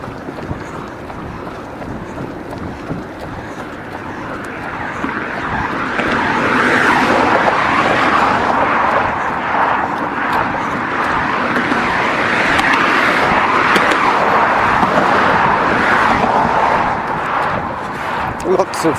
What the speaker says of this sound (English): We can just listen to the cars